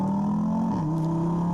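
Audi TT RS third generation with its 400 PS 2.5-litre five-cylinder engine, roof open, gives a steady droning engine note that dips slightly in pitch partway, moderately loud and continuous with no talking.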